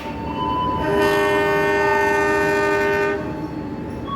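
The Tegal Bahari passenger train stands at a station while a loud, sustained horn sounds for about two seconds over a rumbling rail background, close by and with no speech.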